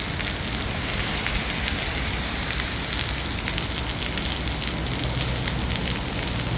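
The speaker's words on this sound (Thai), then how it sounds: "เสียงฝนตกดังใช่ครับฝนตกเยอะนะครับ" Heavy storm rain pours down in a dense, constant hiss, close and loud, beating steadily on surfaces with no pauses and no voices.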